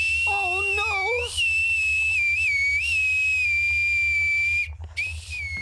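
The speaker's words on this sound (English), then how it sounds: "I can whistle softly too, you know, Rigadon" A cartoon character whistles loudly and continuously: a short wavering trill, then a long bright sustained tone with small dips, held close and strong over a low rumbling background.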